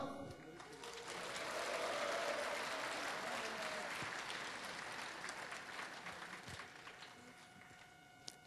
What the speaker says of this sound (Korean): 동지들의 힘찬 박수와 함성으로 시작하겠습니다